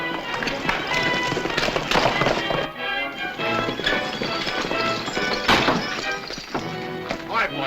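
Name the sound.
horses' hooves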